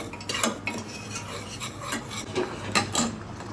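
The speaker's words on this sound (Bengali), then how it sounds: "সুজিটা আমি ঘি আর চিনি দিয়ে ভুনে নিচ্ছি ভালো করে" Semolina stirred and roasted in ghee with sugar in a pan, a steady close scraping and rasping of a spoon against the pot in repeated strokes, with no talk.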